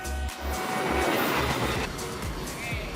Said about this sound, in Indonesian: nungguin kereta lewat loh foodies supaya bisa nyebrang